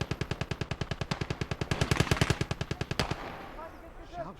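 Machine gun fire in the Gates of Hell: Ostfront war game, a long steady burst of about twenty-five rapid shots that stops abruptly, leaving ambient battle noise behind.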